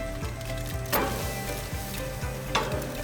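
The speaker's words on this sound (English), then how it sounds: "Grill each quail for 10 minutes on each side." Marinated quail seasoned with soy sauce, rice wine and honey sizzle steadily on a grill, a constant close crackle broken by two sharper pops, with no talk.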